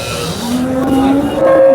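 A single loud, close cow moo at a cattle market, a low drawn-out call rising slightly in pitch.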